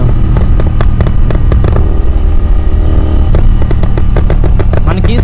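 A Royal Enfield GT 650 twin engine pulls hard in third gear, a loud, close, rough roar with a steady pulsing exhaust beat and wind rush throughout.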